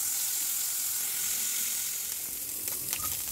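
Onions fry in hot oil in a pan, a loud unbroken hiss of sizzling close by, with a few light stirring knocks near the end.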